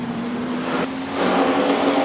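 Nostalgia sedan race cars roar around the Carina Speedway track in a final. Engines drone steadily and loudly, and the sound swells slightly as the cars pass.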